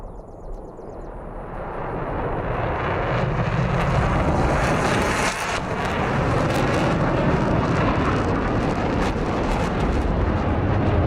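Aircraft engines spooling up in the DCS flight simulator game, a loud broadband roar that builds over the first couple of seconds and then holds steady and powerful with no talk.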